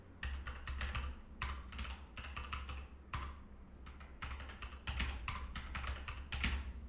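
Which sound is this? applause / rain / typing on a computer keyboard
typing on a computer keyboard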